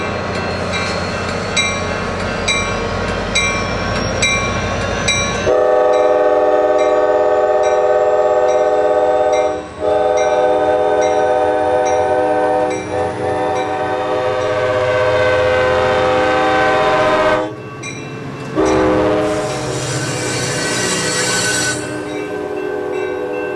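ACE commuter train pulling out of Stockton station at dawn, loud and close: a sustained horn blast over rumbling engine and rolling cars, then steady rail noise with a brief break and a second horn.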